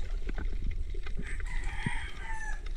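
Several roosters crow in turn at a rural Philippine coast at night, moderately distant and fairly faint over a steady ambient hiss, with no talk.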